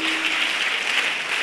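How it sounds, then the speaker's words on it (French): Audience clapping at a church women's convention, a dense, even wash of applause from a large crowd, loud and continuous with no talking. "Je voudrais que nous puissions applaudir Maman Adetola"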